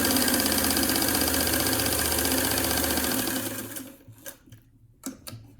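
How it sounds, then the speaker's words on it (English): A sewing machine stitches the long side of a fabric face mask, a fast, rattling mechanical drone for about three seconds that then stops, leaving scattered clicks and handling taps. "I'm going to sew down the long side"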